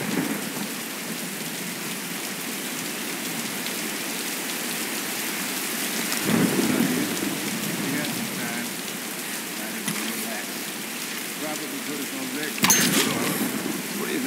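Steady rain and storm ambience from the Tomb Raider video game, a continuous broadband downpour with low rumbling thunder swells around midway and near the end, under occasional character voices.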